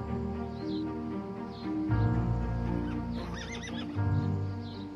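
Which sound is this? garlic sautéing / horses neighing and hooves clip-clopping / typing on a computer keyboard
horses neighing and hooves clip-clopping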